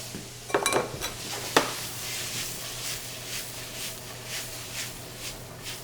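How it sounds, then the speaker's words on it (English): Pasta tossed in a hot pan with truffle oil, starting with a few sharp metallic clanks of the pan and utensils, then settling into a soft, steady sizzle. "Toss the pasta in."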